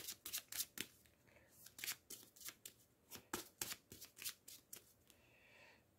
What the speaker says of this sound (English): I will shuffle that back in